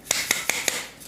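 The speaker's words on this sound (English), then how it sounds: "You need to sift" Four quick, evenly spaced raspy shakes of a sieve as cake and pastry flour is sifted, close and soft, with brief scratchy bursts and no talking.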